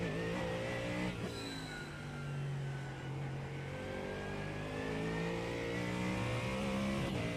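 A Honda NSX GT3 race car engine in the iRacing sim game drones and revs continuously, with gear shifts shifting the pitch and a steady loud mechanical tone throughout, no talk.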